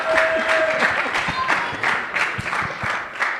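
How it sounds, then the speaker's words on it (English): Audience applause at a family talent night, a steady wash of clapping from a crowd with rhythmic bursts throughout, fairly loud and close, with a brief tone early on. "The applause is not necessary."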